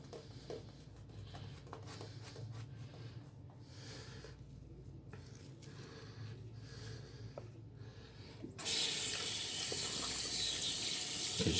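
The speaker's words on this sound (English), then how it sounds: "Just rinsing off the hands" Soapy hands are rinsed under a running tap. Quiet handling noises come first, then the water bursts on loud and steady, close by, for the last few seconds.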